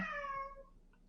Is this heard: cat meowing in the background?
yes